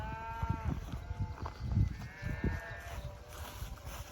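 Sheep bleat several times, wavering calls at mid distance over a low rumble of movement, with no talking; the flock follows a cattle herd on a hill during drought.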